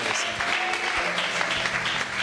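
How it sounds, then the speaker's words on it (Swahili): A church congregation claps together for the Lord during a seminar service, producing a dense, continuous patter of many hands at moderate volume. "Tupigie Bwana makofi."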